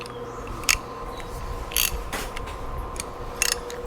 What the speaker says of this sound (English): Now, I'm gonna try to break that bolt loose.